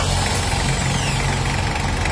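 Car engine idling steadily and close, a continuous low rumble with slight knocking, after a start following a DIY repair.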